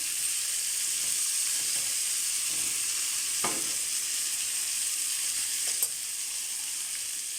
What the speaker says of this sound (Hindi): प्याज भी हल्के से फ्राई करेंगे, इसके अंदर भी बहुत अच्छा फ्लेवर आएगा।